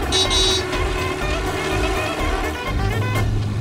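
A children's show car, the Makermobile, drives along with a steady engine hum while its horn toots several times, loud and close, with no voices over it.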